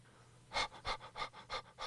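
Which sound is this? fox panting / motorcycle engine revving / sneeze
fox panting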